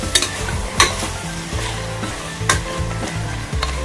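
Chicken pieces fry in hot oil for a chicken gravy, a steady close sizzle broken by sharp scraping clacks as a spoon stirs and turns the meat, with no voices.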